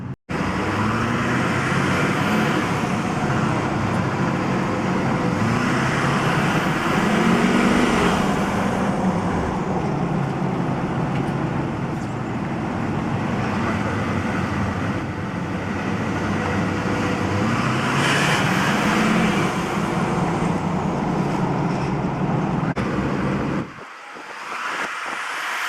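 LLY Duramax diesel truck engine fitted with an HSP cold air intake, running loudly and steadily for about 23 seconds with low rumble and rising whooshes, then cutting off abruptly near the end.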